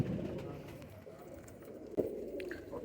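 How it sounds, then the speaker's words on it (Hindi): Fakir Gul pigeons coo softly in a low, murmuring stream amid faint background rustle, with a short louder burst partway through and no clear speech. "अब ये कबूतर हो गया फकीर गुलों में"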